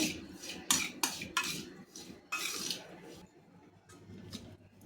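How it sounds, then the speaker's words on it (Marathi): A spoon scrapes and clinks against a pan while stirring a wheat modak mixture with dry fruits and cardamom, giving uneven bursts of scraping with short pauses between, close and moderately loud. "पुन्हा मी मिश्रण मिक्स करून घेते"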